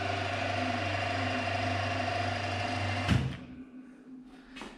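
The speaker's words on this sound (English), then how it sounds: "if you want to run the coolant pump, you actually need to engage spindle, and then you can hear the pump inside" Coolant pump running inside an old milling machine with the spindle engaged, a steady mechanical hum and whir that runs for about three seconds, then a clunk as it cuts off, leaving quieter machine noise with a brief knock near the end.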